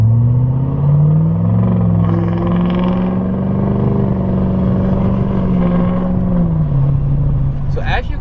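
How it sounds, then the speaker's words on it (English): A Chevrolet L5P Duramax pickup fitted with an S369 SXE turbocharger accelerates from a stop, its deep diesel drone rising and building steadily from inside the cab with the window partly down, loud and continuous. "I'll put the window down a little bit so you guys can hear the truck actually do a pull"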